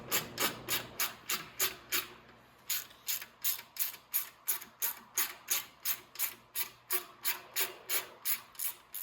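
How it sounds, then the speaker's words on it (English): An 8 mm ratchet backs out mirror bracket bolts on a Venom 125cc mini jeep, its pawl clicking in quick, steady bursts of regular strokes throughout, close and clear with no talking. "I'm gonna go just grab my 8 mil ratchet here. And we'll go ahead and we'll take these bolts off."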